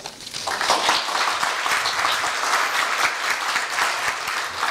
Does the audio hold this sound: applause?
yes